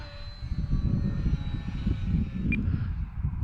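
A HobbyZone Carbon Cub S2 RC airplane on a stock 3S setup flies into the wind, its electric motor buzzing steadily at mid distance over rumbling wind noise.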